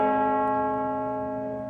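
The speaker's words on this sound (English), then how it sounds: "the bells at Windsor Castle and St Paul's Cathedral tolling in her honour" A church bell tolls in honour of Queen Elizabeth at Windsor Castle and St Paul's Cathedral. A single sustained bell tone rings out and slowly fades, clear and alone.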